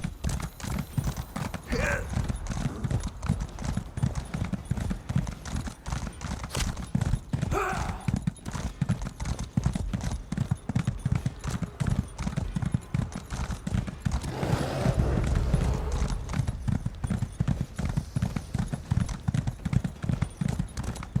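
Horse hooves clip-clopping in a steady galloping rhythm while riding in the video game The Elder Scrolls Online, close and continuous, with occasional brief whinnies and a swell of ambient noise midway.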